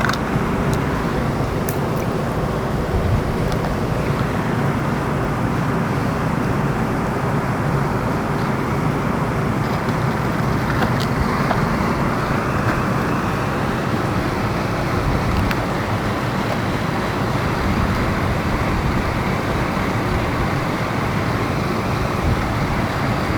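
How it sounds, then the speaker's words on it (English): A small water pump runs on its slowest setting with a venturi snorkel tube submerged, giving a steady, continuous wash of bubbling and churning noise that stays even and fairly loud throughout, with no voices. "I'll set the pump on the slowest setting."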